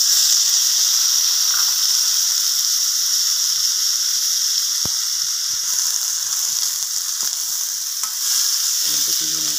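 Tomatoes sauté in a pan with garlic, chili and onion, giving a loud, steady sizzle and hiss with occasional stirring scrapes, close up with no voices.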